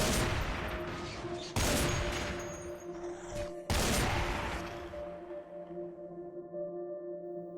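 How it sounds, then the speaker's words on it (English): A shotgun firing in the video game Cataclysm: Dark Days Ahead: three heavy, booming blasts spaced a couple of seconds apart, each trailing off over a steady electronic hum. "We unsling the shotgun to clear out a few more"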